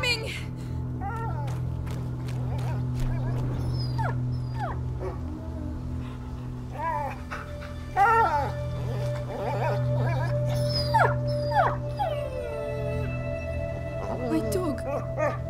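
A dog whimpers, yips and howls in the video game A Plague Tale: Innocence, repeated high plaintive cries rising and falling over a low ambient drone, with voices speaking at times.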